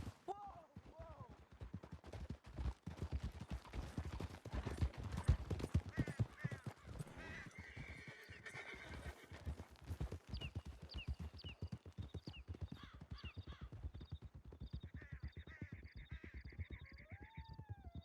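Horses galloping in Red Dead Redemption 2, rapid close hoofbeats pounding in a steady run, with a whinny near the start and people talking over the riding.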